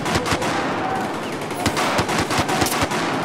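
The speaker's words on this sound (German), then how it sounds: "Ja, ich glaube, du wirst da beschossen." Rapid gunfire in the Battlefield 4 multiplayer map Zavod 311, dense bursts of shots crackling continuously at high volume with sharp individual reports throughout.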